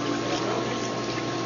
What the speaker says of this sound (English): we drain all the water out